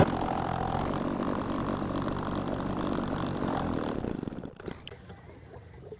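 A machine-powered country boat runs with a steady, loud engine drone that cuts off after about four seconds, leaving quiet water and ambient sound.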